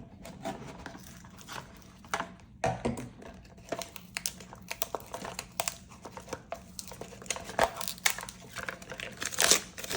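Stiff plastic packaging of an American Red Cross hand crank charger crinkles and crackles as it is pried open, in irregular bursts of close crunching and tearing with no talking.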